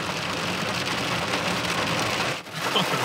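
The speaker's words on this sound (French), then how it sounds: "Bah ouais, mais il grêle." Dense, steady pattering of large hailstones striking surfaces and a car all around, a continuous loud clatter with a brief dip near the end.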